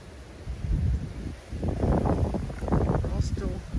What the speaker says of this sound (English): dealing with some pretty good gusts.